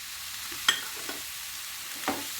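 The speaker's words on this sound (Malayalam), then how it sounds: "നന്നായിട്ടൊന്ന് ഇളക്കി കൊടുക്കാം" Chopped banana flower for cutlets stirred in a frying pan with a steady low sizzle and a few sharp spoon scrapes against the pan, close and with no voices.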